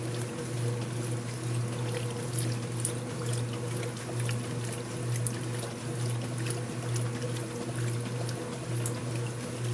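A Speed Queen TC5000 top-load washer agitates satin sheets in sudsy water, a continuous loud churning slosh over a steady motor hum, with no voices.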